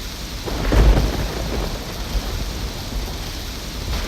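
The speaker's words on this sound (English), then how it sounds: "It is the most incredible rainstorm. Listen to that." Heavy, steady torrential rain roars close by in Cochin, with a deep rumble of thunder swelling early on before settling back into the constant downpour.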